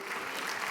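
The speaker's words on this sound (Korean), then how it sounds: "박수로 한번 영광을 돌립니다." A Korean church congregation claps during a sermon, a short even burst of moderate applause heard on its own.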